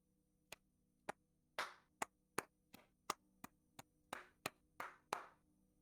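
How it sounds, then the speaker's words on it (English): Several pairs of hands clap in an irregular scattered series of about a dozen sharp, distinct claps, some crisp and others broader, heard alone against quiet. "And it's not one pair of hands clapping,"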